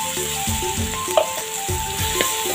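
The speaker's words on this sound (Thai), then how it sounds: "เอากระทะร้อนนะครับเดี๋ยวผัดพริกให้หอมนะท่านผู" Chili sizzles loudly in a hot pan while a utensil scrapes and stirs in a repeated rhythm, with a steady electrical hum underneath.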